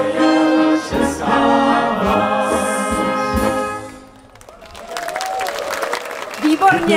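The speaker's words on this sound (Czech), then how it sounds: "tleskáte také sobě" An audience applauds at the closing concert of a brass band festival in Soběslav, with loud sustained clapping mixed with music and crowd noise, swelling again after a brief dip.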